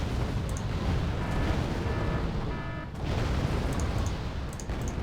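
Artillery fire and explosions in Wargame: Red Dragon during a Second Korean War campaign battle, a steady rumbling barrage of booms and bursts over several seconds, with a brief lull midway.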